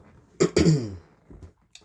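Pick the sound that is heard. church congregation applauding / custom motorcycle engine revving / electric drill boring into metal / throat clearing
throat clearing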